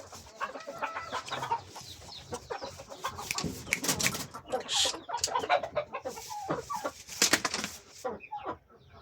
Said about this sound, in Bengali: এটা হচ্ছে আমাদের একটা আচিল মুরগির ফিমেল, আর এখানে একটা পেয়ার আছে।